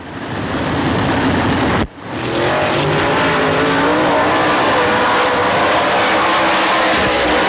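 A stock car engine roars loud and steady as it races around a speedway during 1997 DTWC qualifying. A brief dip comes early, then the engine's rising drone carries on without a break.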